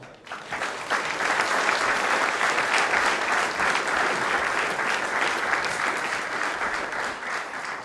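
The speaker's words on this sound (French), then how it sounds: "Déjà, je pense qu'ils méritent nos applaudissements." Sustained, dense applause from an audience at an oyster-opening contest in Charente-Maritime, loud and steady throughout with no pauses.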